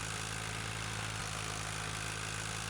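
An old tractor engine in Farming Simulator 2013 idles with a steady low droning hum and an even mechanical rumble, unchanging and continuous, with no voices.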